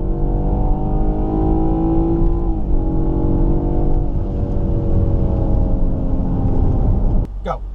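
A Range Rover L322 drives and accelerates during a race across town, a steady engine drone with rising pitch that shifts as it changes gear. A short sharp sound comes near the end.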